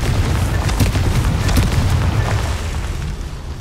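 A fiery explosion blast from a Confringo spell in the Hogwarts Legacy video game, a dense booming burst with crackling debris that rumbles on for a few seconds and fades slightly.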